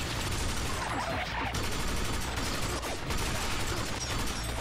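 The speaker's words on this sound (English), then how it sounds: "we are in a bad spot since we're being fired on from two directions" Dense enemy gunfire in the video game Binary Domain, a continuous rattling barrage of rapid shots layered over a loud, busy battle din.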